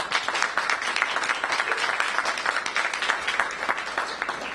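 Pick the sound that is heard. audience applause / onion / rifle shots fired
audience applause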